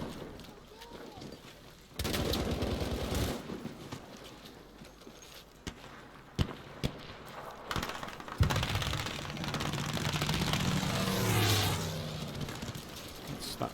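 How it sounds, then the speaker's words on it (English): Bursts of rapid aeroplane gunfire and booming blasts in a Battlefield V battle, loud and close, with scattered impacts and a rising whine near the end. "Very distinctive, that aeroplane gunfire."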